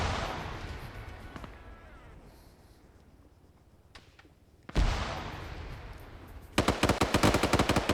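Gunfire in a competitive video game match: a decaying burst of shots, then a sharp loud blast and a rapid machine-gun volley near the end, close and loud.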